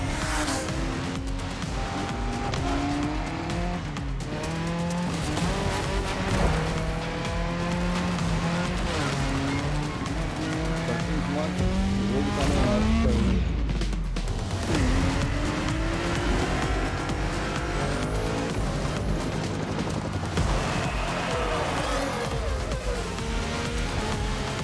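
Racing car engines roar continuously in The Crew Motorfest video game, with rising and falling revs, gear shifts and tire squeals as cars skid through corners, loud and dense throughout.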